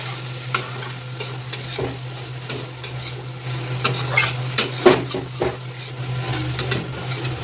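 Okra (bhindi) curry stirred in a pan, a continuous sizzle beneath a steady hum, broken by repeated clinks and scrapes of a spoon against the pan.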